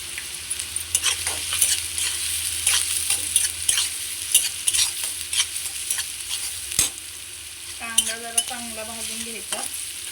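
Cumin and mustard seeds crackle and sizzle in hot oil as they are stirred, with steady close frying noise, scraping stirs and a brief tonal whine near the end.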